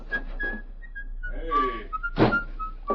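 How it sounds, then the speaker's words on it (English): A man whistles a wandering tune as he walks away, clear sustained notes broken by short pauses, with brief footstep-like knocks and a voice mixed in. "Now leave here and whistle as you go."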